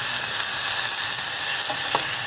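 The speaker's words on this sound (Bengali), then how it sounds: "এই খুব সামান্য একটুখানি তেলে এই গাজর, পেঁয়াজ আর ক্যাপসিকামটা একটুখানি ফ্রাই করে নিচ্ছি" Carrot, onion and capsicum fry in a little oil in a saucepan for soup, giving a loud, steady, close sizzle with a couple of faint utensil taps near the end.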